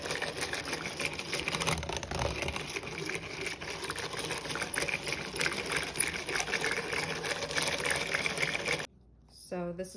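An old hand-cranked manual mixer churns buttermilk pie filling with a close, steady, rattling mechanical whir and squeak for about nine seconds, then stops abruptly as a voice briefly speaks.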